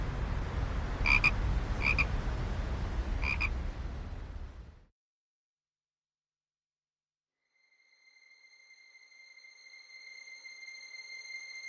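Frogs croaking on a riverbank of the Vistula, a rhythmic chorus of close, loud croaks over a dense low din that drops to silence, followed by faint steady tonal whistles.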